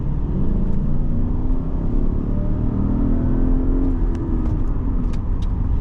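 A 2012 Lexus LS460L accelerating in power mode, its engine note a smooth, loud, rising drone heard from inside the cabin, steady and unbroken, with no speech.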